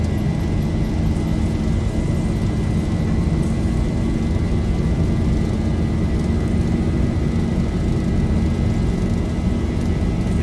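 A simulated airliner's takeoff roll in X-Plane 11 roars as a loud, steady broadband engine and rumble, with a faint high whine held constant throughout.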